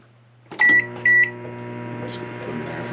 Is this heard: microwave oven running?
yes